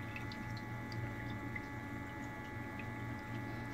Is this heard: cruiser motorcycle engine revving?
no